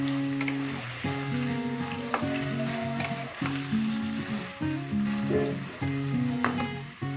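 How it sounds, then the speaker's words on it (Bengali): Ginger and garlic get stirred slowly into a mixed vegetable pickle in a pan, giving a steady quiet sizzle with soft scraping and stirring strokes throughout, no voices. "এরপর আমি দিয়ে দিলাম আদা আর রসুন কুচি, এরপর হালকাভাবে আস্তে আস্তে আমি এটাকে নাড়বো"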